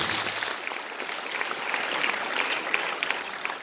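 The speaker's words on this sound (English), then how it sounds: "A round of applause, ladies and gentlemen, for Dr. van der Putten." A dense, even wash of audience applause at an awards ceremony for a girls' chess final, steady and sustained throughout with no one speaking over it.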